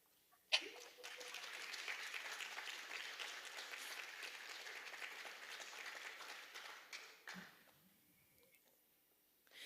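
Sustained audience applause at the CXC 2021 regional top award ceremony, a dense steady wash of many hands clapping that swells quickly, holds for several seconds, then fades out near the end.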